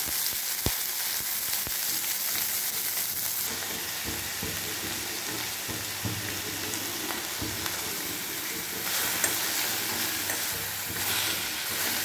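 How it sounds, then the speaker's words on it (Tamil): Ridge gourd peel is sautéed and stirred in a hot pan, giving a continuous close sizzle with scraping stirs and occasional sharp clinks, with no talk. "அந்த பீர்க்கங்காய் தோல் வாசனை போடுற வரைக்கும் நம்ம அதை வதக்கணும்"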